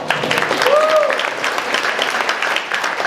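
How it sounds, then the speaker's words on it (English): Audience applause for volunteers at a Lunar New Year gala: continuous clapping from a hall crowd, with a brief whistle-like tone and some murmuring voices mixed in. "Let's give them a round of applause."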